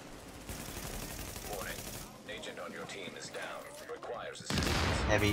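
Video game gunfire during a Lexington Event Center challenge-mode fight, sustained volleys of fairly close shots with a quieter stretch and talking mixed in, then a louder burst at the end.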